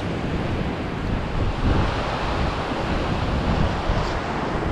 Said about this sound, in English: the waves are a bit too large for climbing onto abandoned vessels